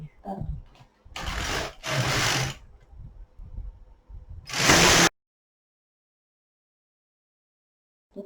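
A knitting machine knits rows of waste yarn while making a baby sleepsuit, with three loud, rasping carriage passes a second or so long, separated by brief pauses, then silence.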